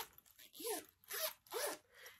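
Three quick zipper pulls in a row on a small pink bag, close and crisp, each a short rasping zip with brief pauses between.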